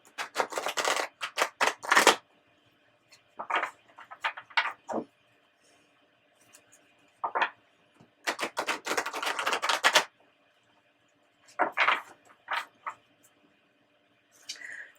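Bursts of crisp riffling and clicking as tarot cards are shuffled, several quick flurries separated by quiet gaps, close up.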